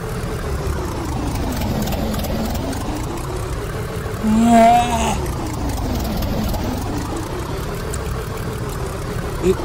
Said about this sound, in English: now let's ride the cart